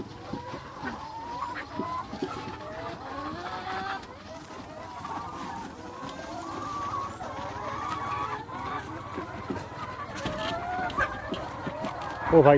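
Chickens on an egg farm cluck and murmur steadily throughout, a dense flock close by, with faint background noise and some talk mixed in.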